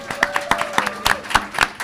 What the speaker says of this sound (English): Yes, you could clap.